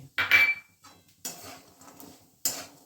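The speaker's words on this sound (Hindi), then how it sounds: "अब हम इसी में ही डाल देते हैं ये पिस्ते।" Pistachios tumble into a pan for dry roasting while khajur laddus are being made, giving a few sharp clattering bursts of nuts striking metal, separated by quieter gaps.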